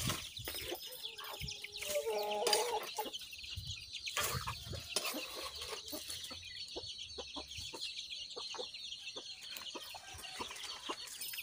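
Chicks in a village setting feed on termites, clucking and peeping in quick, scattered bursts, close by, with an occasional louder cluck from a hen.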